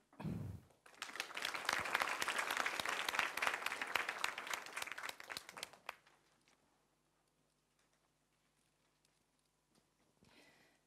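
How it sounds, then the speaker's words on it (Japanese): Audience applause for student presenters at a WiDS event bursts up after a brief voice, holds dense and lively for about five seconds, then stops abruptly into near-silence with a faint trailing sound at the end. "今一度盛大な拍手をお願いいたします"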